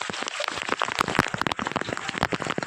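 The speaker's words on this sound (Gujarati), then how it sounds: "એટલો વરસાદ પડે આપતો ધોધમાર જોવા તમે" Heavy monsoon rain pours down in a torrential downpour, a dense, steady patter of drops striking surfaces with irregular louder splashes throughout.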